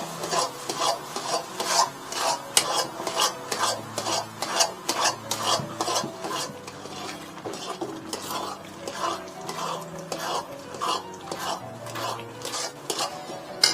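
Apple halwa being stirred in a pan, a rhythmic rasping scrape of a spoon against the pan repeating steadily for over thirteen seconds, close and fairly loud, no voices.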